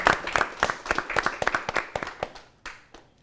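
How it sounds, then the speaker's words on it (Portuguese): Audience applause for university students, a short burst of sharp, close handclaps that thins out and fades over a few seconds. "Então, as palmas são para vocês."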